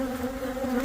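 Bees buzz steadily at a hive affected by chronic bee paralysis, a close, continuous drone with a strong, even hum throughout, right after rain.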